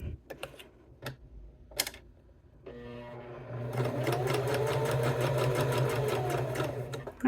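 Sewing machine stitching a cork wallet: a few scattered clicks and taps, then the motor starts and runs a fast, steady rattling stitch rhythm, close and loud, with a voice speaking over part of it.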